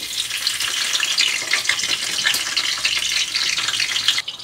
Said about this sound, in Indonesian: Pertama kita tumis dulu bagian batangnya.